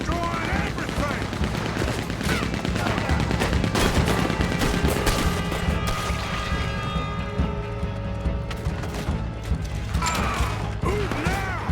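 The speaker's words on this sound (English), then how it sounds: "This Gatling gun's destroying everything!" A Gatling gun fires in Red Dead Redemption 2, pouring out dense, rapid mechanical bursts that rattle on without pause amid battle noise, with voices shouting over the din.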